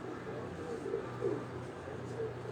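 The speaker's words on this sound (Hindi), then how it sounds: "ये दोस्तों वो जोड़ा है जो कबूतरों का जोड़ा मैं आपको दिखा रहा हूँ" A pair of pigeons, a male and a female, coo softly in low, rounded bursts on a rooftop in Rawat, over steady background noise with faint voices.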